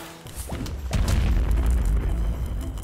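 Explosion in a Plants vs. Zombies hybrid game, a deep loud boom that rumbles and sustains for about two seconds after a short popping onset, alone without talk.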